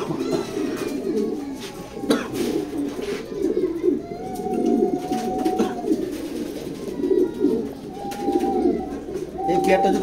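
Pigeons in a loft coo in low, throaty bursts that come and go, with occasional chirps over a busy background of rustling and bird noise, while someone talks through much of it.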